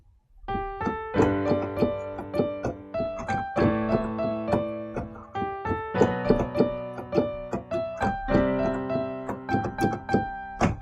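Piano left hand rolling through broken chords, low notes rising in repeated arpeggio figures, steady and moderately loud, with no voices.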